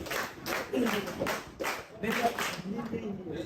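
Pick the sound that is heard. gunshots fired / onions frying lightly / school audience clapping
school audience clapping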